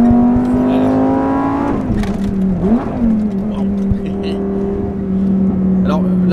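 A sports car engine hums and rises in pitch, revving up and dropping back, heard from inside the car with loud road noise throughout, at the Castles Rally 2021.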